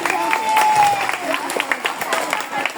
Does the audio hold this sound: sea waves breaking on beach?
no